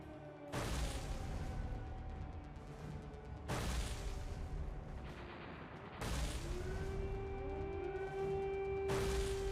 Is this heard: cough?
no